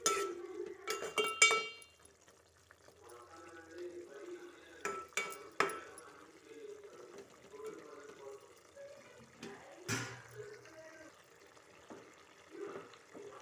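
Spices are stirred into vegetable pulao in a pan, with scattered scraping and clinking of a spoon against metal. A few sharper knocks come among quieter stretches, and a voice speaks faintly in the background.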